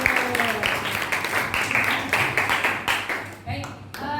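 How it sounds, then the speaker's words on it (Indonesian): Students in a high school classroom at SMAN 3 Cibinong give a classmate a round of applause, dense rapid clapping filling the whole stretch while a teacher talks over it. "Tepuk tangan untuk Angger."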